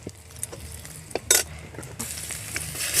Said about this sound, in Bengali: তেলের মধ্যে দিয়ে দিচ্ছি শুকনো লঙ্কা